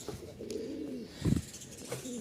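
Pigeons coo repeatedly inside a loft, the low rounded calls overlapping in a steady chorus with one louder, closer burst midway and faint chirps above.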